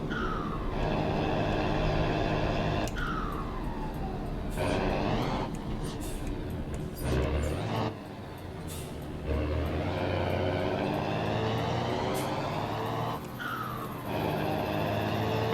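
An old Mercedes-Benz 1113 truck in Euro Truck Simulator 2 revs its engine, a steady loud diesel drone rising and falling through repeated throttle blips and gear changes with brief dips, heard up close without talk.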